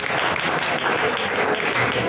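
Audience applause at a science club event marking Albert Einstein's birthday, dense continuous clapping from a crowd that stays steady and loud throughout.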